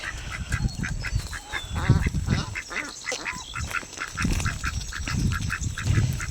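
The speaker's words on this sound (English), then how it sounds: "Thirsty ducks" Ducks by a pond quack repeatedly in a busy outdoor chorus, with overlapping calls at a moderate distance, steady throughout.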